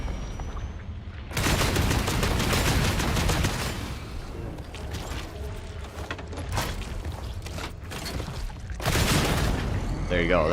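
Gunfire in an online shooter video game, a loud sustained burst of rapid shots that fades and then returns as a second heavy volley near the end.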